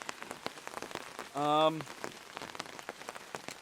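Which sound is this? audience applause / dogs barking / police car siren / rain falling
rain falling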